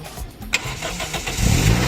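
A 2007 Toyota Vios engine cranking and catching, a brief whirring starter followed by the motor firing and settling into a rough, rising idle, close and fairly loud.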